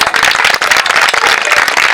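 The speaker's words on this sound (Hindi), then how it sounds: "और अगर ये रचना अच्छी लगी हो तो एक बार जोरदार ताली।" An audience claps at a Hindi bhajan performance: dense, loud, continuous applause from many hands, sharp and close, with no voices over it.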